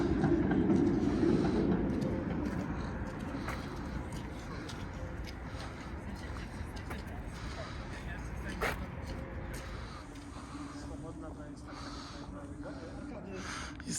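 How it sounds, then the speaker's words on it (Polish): A tram rumbles past in the mid-distance in Wrocław, Poland, a steady low rolling noise that fades slightly, heard outdoors. "Widzicie, jedzie sobie tramwaj."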